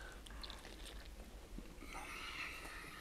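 Biting and chewing of a bite of cauliflower and minced meat bomb from the barbecue grill, soft close crunching and mouth sounds, quiet and steady, with no talk.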